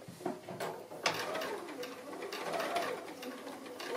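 A domestic sewing machine stitches along a quilted table runner made from 2 1/2-inch fabric strips, a steady close mechanical whirr running continuously with a few brief clicks and knocks as the piece is turned.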